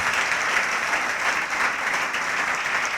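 An audience at a religious discourse applauds with steady, dense clapping that holds at an even level from start to finish, without pauses.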